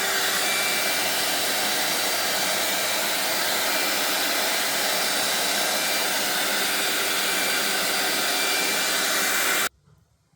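A heat gun blowing hot air onto a decorative moulding to soften it, a loud, steady roaring whoosh that runs unbroken for about ten seconds and then cuts off abruptly.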